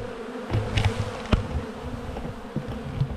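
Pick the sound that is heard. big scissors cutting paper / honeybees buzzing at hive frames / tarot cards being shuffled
honeybees buzzing at hive frames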